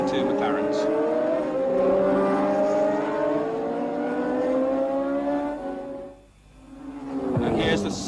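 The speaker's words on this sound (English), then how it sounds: "And now Oertel following the 2 McLarens." Formula One cars at the Japanese Grand Prix at Fuji, engines holding a loud, sustained high whine that rises and falls over several seconds, briefly dipping before swelling again, with a commentator talking throughout.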